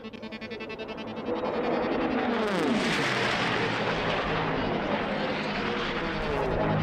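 A P-51D Mustang racing plane at an unlimited-class air race roars past with a loud piston-engine drone. The pitch drops as it passes, and the roar stays strong and steady afterward.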